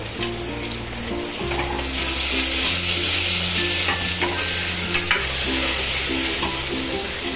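Cubed potatoes fry and get stirred in oil with spices, a steady loud sizzle throughout with scraping stir strokes at intervals, close and continuous, no voices.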